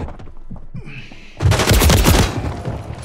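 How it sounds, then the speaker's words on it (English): Rapid automatic gunfire from the shooter game Warzone, fired at an enemy, breaks out in a loud, dense burst after a quieter opening of scattered game sounds and then tapers off. "koliko sam ja metaka ispalio u ovog lika"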